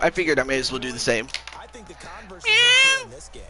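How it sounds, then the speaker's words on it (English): A cat lets out one loud, clear, drawn-out meow close by, coming right after a stretch of people talking. "That was a cat."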